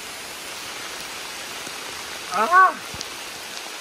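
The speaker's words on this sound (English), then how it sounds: "And here comes the rain." Steady hiss of rain falling all around in Pennsylvania, with a brief startled exclamation from a voice partway through.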